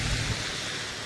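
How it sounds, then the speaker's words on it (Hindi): Steady rain falls throughout on a day of continuous rainfall, a soft broadband hiss with a slightly louder patch near the start, no voices. "अभी बारिश है, और आज पूरे दिन भर बारिश थी।"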